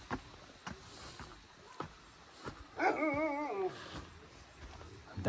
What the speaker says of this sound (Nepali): दामी कुकुर कराई